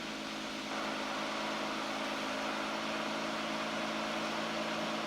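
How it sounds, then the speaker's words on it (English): A car engine settles into a steady idle at about 1100 RPM just after starting, a continuous close mechanical hum with a constant tone throughout and no talk over it. "There's our little crank, there's our fire, and now you'll see we're idling."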